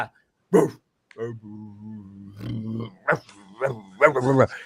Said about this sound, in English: so I have that video of him barking at the corner, but very calm